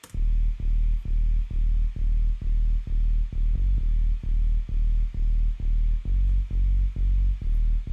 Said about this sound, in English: It's a straight drive bass.